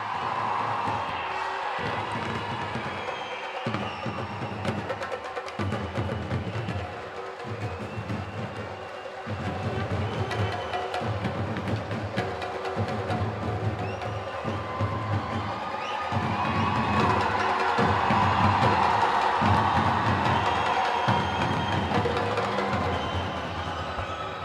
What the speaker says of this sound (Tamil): உங்களுடைய பலத்த கரகோஷங்களுடன்